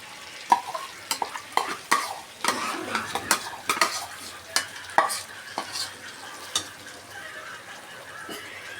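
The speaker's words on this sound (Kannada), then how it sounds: "ಇವಾಗ ಈ ಮಸಾಲಾನ ಇದಕ್ಕೆ ಹಾಕ್ತಾಯಿದ್ದೀನಿ" Ground masala for mutton gravy frying in a pan, with sharp, irregular clinks and scrapes of a spoon stirring against the metal over a continuous soft sizzle, busiest early and easing off later.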